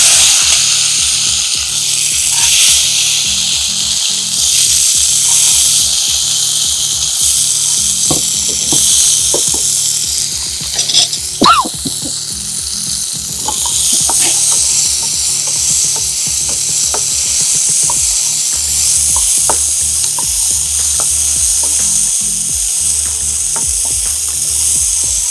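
Phalsa fruit with a dried chilli frying in a pan gives a steady, loud sizzle with scattered clicks and stirring scrapes, continuous throughout with no talk.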